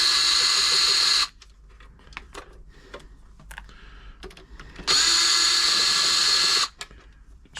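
Power screwdriver whirring off screws from an ELNA 3007 sewing machine: two loud whines of a second or two each, separated by clicks and handling clatter.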